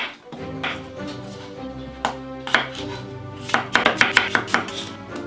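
A knife chops small yellow-fleshed grelot potatoes into quarters on a board, sparse cuts at first, then a quick run of sharp, close taps toward the end, with no talking.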